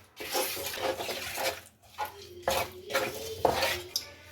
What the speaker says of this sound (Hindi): इसको मिक्स करें अच्छी तरीके से